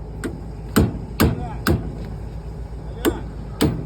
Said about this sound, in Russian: тут кувалда